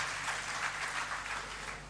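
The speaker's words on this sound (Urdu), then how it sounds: "جناب حنیف احمد بھٹی ایڈوکیٹ آپ کی بھرپور تالیوں کی گونج میں اپنے اظہار خیال کے لیے تشریف لاتے ہیں" Steady, dense applause from a seminar audience in a hall, sustained at an even level for the whole stretch without pause.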